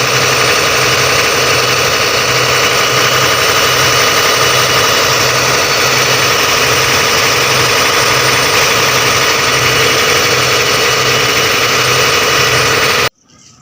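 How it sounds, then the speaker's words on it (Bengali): A ferry boat's engine drones loud and close during a river crossing, a steady heavy rumbling hum with faint rhythmic throbbing, cutting off abruptly at the end. "প্রচুর ইঞ্জিনের আওয়াজ হচ্ছে বলে কথা হয়তো ঠিকভাবে শোনা যাবে না"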